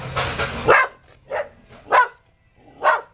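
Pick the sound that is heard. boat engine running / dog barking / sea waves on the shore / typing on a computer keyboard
dog barking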